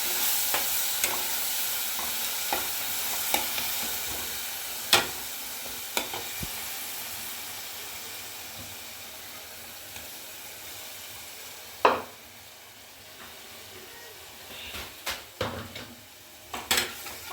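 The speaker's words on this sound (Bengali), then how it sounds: "এবার এটা একটু যতক্ষণ না আদার গন্ধটা যায় ভাজবো" Ginger spice paste fries in butter in a pan with a soft continuous sizzle, broken by occasional clinks and scrapes of a spoon stirring against the metal.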